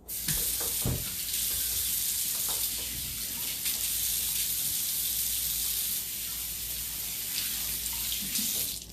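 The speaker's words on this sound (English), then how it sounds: "So now I'm gonna wash my hands" Hands scrub under a running kitchen tap, a steady hiss of water broken by a few splashes and knocks, close and continuous.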